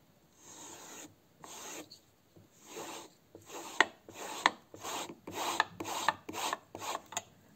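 A grafting knife is sharpened on a dry whetstone with no paste, giving a steady series of gritty rasping strokes, about a dozen close and fairly loud passes in a regular back-and-forth rhythm, with no voice.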